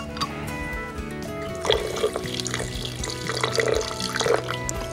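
Water being poured into a chia and olive oil salad dressing, a steady splashing trickle with liquid gurgles building midway and continuing to the end.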